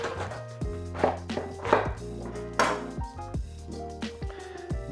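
A knife splits a cabbage in half on a cutting board, giving several sharp chopping thuds and clacks against the board at an uneven pace, close and clear with no voices.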